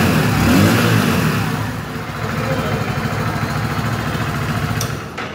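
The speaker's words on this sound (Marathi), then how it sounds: "आता मी तुम्हाला या बाईकचा साऊंड ऐकवतो कसा येतो, तर चालू करूया." A steady, loud engine drone comes from a 2024 Hero Splendor Plus Xtec 2.0 motorcycle running close by inside a showroom, with a slight swell near the start before it settles into an even running note.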